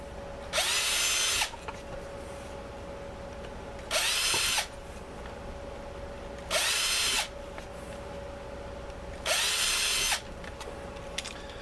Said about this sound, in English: So I got my holes drilled